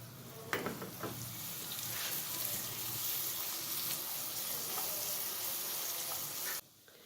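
A loud, steady sizzle of crushed garlic hitting hot oil, crackling close by with occasional stirring scrapes, then cutting off abruptly near the end.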